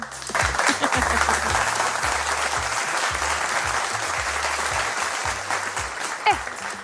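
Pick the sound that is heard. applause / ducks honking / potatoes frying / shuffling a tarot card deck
applause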